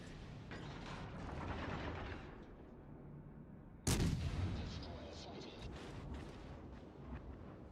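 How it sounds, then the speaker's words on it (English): Battleship guns fire in the naval combat video game World of Warships Legends, a sharp, booming salvo bursting out midway over a dense rumble of battle noise, heard faintly under a player's speech. "he's hitting his shots with that fucking sniping battleship"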